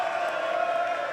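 A crowd in Canberra cheers and roars at a bowls final, a steady, loud wash of voices that fills the whole moment without a break.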